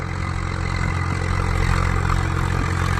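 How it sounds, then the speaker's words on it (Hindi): A Swaraj tractor runs under load powering an 8-foot Param rotavator in a field, its diesel engine a dense, steady rumble with continuous low clatter, loud and close throughout. "ट्रैक्टर की आवाज़ सुनो, घुमा दिया।"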